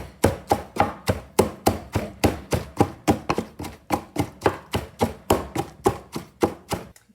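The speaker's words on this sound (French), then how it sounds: "j'ai terminé de mon côté avec l'écrasement des épices" Spices are crushed by hand while a vegetable compote is prepared: about twenty even, sharp thuds repeat in a quick, steady rhythm, close and clear, with no talking.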